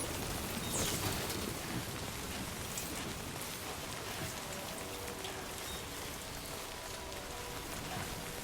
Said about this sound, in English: I guess it's just going to be raining now.